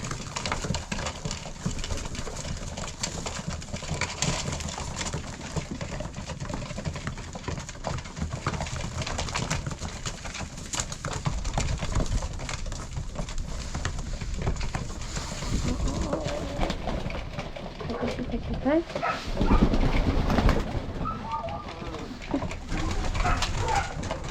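Pigeons coo continuously at close range while they are fed, with wingbeats and shuffling mixed in and faint voices in the background.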